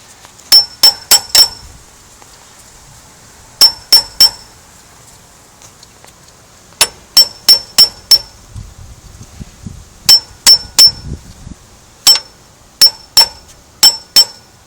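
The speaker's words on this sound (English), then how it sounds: "I can get a much longer swing of the hammer." A hammer strikes metal while fitting a Triumph TR3/TR4 water pump, sharp ringing clinks in quick runs of three or four hits separated by short pauses, loud and close.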